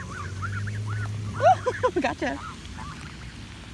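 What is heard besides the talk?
geese honking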